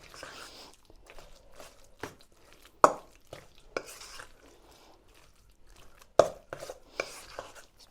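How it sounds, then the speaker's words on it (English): A spoon works through a wet chicken burger mixture in a bowl, giving soft irregular scrapes and a few sharper knocks against the bowl, fairly quiet and close. "Just make sure you mix it really well."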